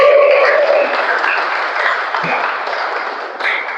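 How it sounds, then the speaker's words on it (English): An audience claps steadily at a club meeting after a call for a better round of applause, a loud, dense wash of clapping that carries on throughout and fades only slightly toward the end. "So can you give me a better round of applause?"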